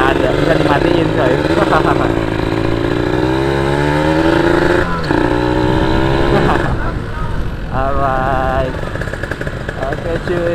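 A 2001 Kawasaki Ninja SS 150 motorcycle on a test ride roars loudly and continuously, its engine pitch climbing and dropping through repeated revs and gear changes, close to the rider.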